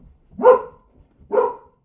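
A Belgian Malinois at a dog training facility gives two sharp, loud barks about a second apart, close to the microphone with nothing else around them.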